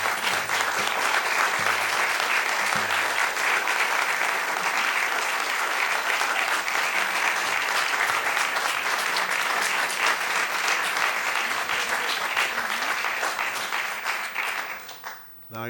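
An audience at an MPO board meeting breaks into sustained, loud applause that fills the room for about fifteen seconds before fading out at the end.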